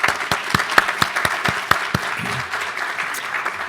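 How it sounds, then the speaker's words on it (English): An audience at a university building dedication gives a round of applause, crisp individual claps ringing out in a steady rhythm over a soft crowd wash, fairly close and sustained throughout. "Give you a round of applause"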